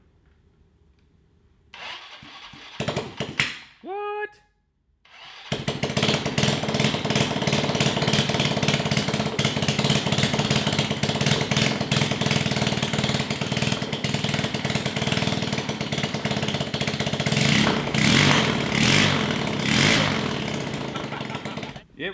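A GY6-powered Yerf Dog Spider Box cranks with a rising starter whine for a few seconds, then catches and runs loud and steady close by, its engine droning on with a brief spoken word early on.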